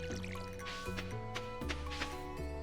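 Watering crops in the Stardew Valley farming game, with soft splashy liquid bursts from the watering can repeating every half second or so over steady tonal game music.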